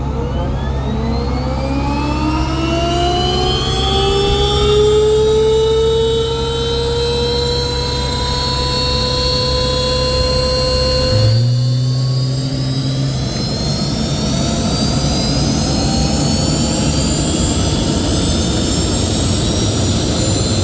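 Old private jet's engine once owned by Buzz Aldrin, a loud roaring whine with rising tones as it spools up, then a sudden shift to broadband rushing roar, heard close and continuous.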